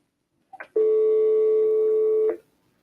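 A loud telephone tone for a number not in service: a brief click and short chirp, then one long steady tone lasting about a second and a half that stops abruptly, with no talking.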